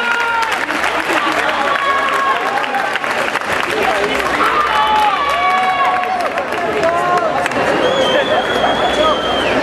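Sustained applause and cheering from a crowd at an awards ceremony for a national champion military band bugler, loud and close, with whistles and shouts mixed into the clapping.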